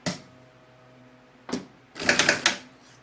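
A sewing machine stitches a small necessaire pouch, giving a brief whir, a pause, another short burst and then a quick rattling run of needle strokes, heard close.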